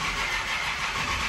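An old car engine starting gives a brief, steady, rough mechanical roar with an even level throughout and no talking.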